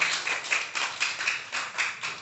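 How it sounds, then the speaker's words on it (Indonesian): Applause for the Forum Karang Taruna Kecamatan Dharma Raja at a gathering at the Darmaraja pendopo. It comes as a steady, rhythmic patter of hands from a modest crowd, lightly pulsing at a moderate level with no voices over it. "Tepuk tangan untuk Forum Kecamatan Dharma Raja"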